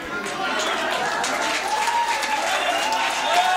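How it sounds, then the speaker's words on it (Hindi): Sustained applause from a crowd at a Hindi comedy poetry gathering, steady clapping that swells slightly toward the end. "इधर से तालियां आ रही हैं"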